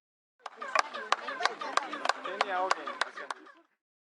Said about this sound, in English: And here's the sound of clapping and the echoes from the pyramid at Kukulkan.